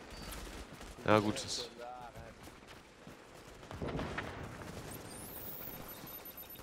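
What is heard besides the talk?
gunfire in the video game The Division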